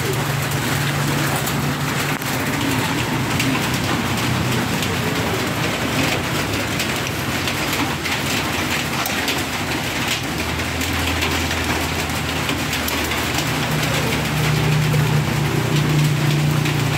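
Steady rain falls as a dense, even hiss throughout during a brake shoe repair job, with a low mechanical hum underneath and no talk.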